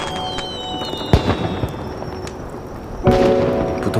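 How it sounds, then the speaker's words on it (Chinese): Fireworks burst overhead during a festival celebration, two sharp loud explosions about two seconds apart, each followed by crackling decay over a steady background hum. "烟花在天上炸"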